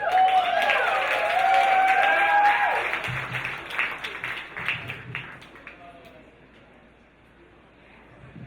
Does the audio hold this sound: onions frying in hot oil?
no